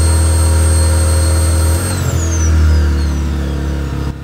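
A Parkside PISE 800 A1 800 W inverter generator engine runs steadily and loud and close, a low hum with a whine that dips and shifts pitch partway through before settling, then stops abruptly at the end.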